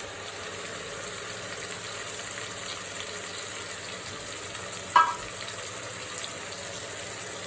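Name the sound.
ground spinach, chilli, tomato and spice paste frying for chicken biryani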